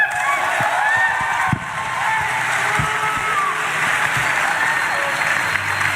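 An audience applauds after a religious talk. Sustained clapping fills the room at an even level, with a few sharper claps and brief vocal noises poking through.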